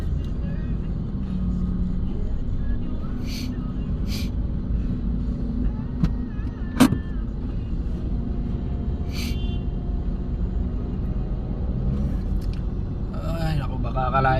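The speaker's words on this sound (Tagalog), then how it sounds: "Grabe, sobrang traffic talaga ngayon." Heavy road traffic in a jam produces a steady low engine rumble and idling hum throughout, with a couple of faint horn-like tones and brief clicks over the drone.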